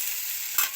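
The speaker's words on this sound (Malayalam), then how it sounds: "ഇത് മെല്ലെ ഇങ്ങനെ ഇളക്കി കൊടുത്തിട്ട് ഒന്ന് മൂത്ത് വരുമ്പോൾ" Grated raw papaya for thoran frying in a pan, a soft continuous sizzle with one short stirring scrape near the end, close and without talk.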